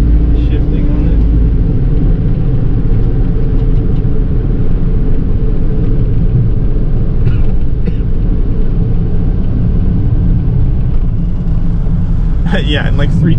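A 1996 Honda Acty SDX mini truck's engine drones low and steady from inside the cab as the driver works through a rough first-gear shift, with people talking over the rumble.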